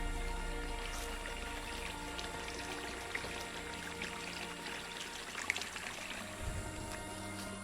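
Water from a deep artesian well, drawn from 700 to 900 feet, pours and trickles steadily. It is quiet and continuous, with faint splashes and light outdoor background noise.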